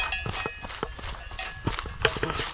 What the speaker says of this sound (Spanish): Caballo con su potrillo.